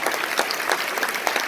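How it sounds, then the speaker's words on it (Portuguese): A church congregation at a Carnival retreat claps together, a dense, loud burst of many hands filling the room without a break. "Aplaudamos a palavra de Deus com alegria,"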